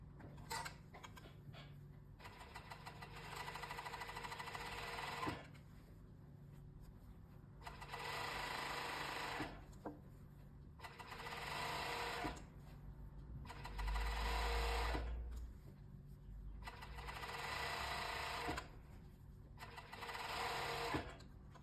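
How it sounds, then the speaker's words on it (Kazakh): A sewing machine stitches the hem of shorts in repeated bursts of rapid whirring, each run lasting a few seconds and separated by short pauses, close and steady. "Енді балағын айналдырып тігіп шығайық."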